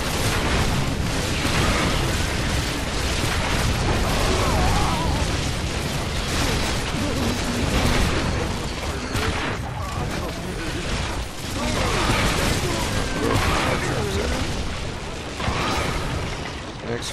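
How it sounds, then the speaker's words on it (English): Duct tape bombs going off again and again in Orcs Must Die! 2 on the Big Valleys map, a loud dense barrage of bursts and booms with clattering mechanisms that continues without a break. "This last wave, we're gonna burn all of our duct tape bombs that we got set up at the top."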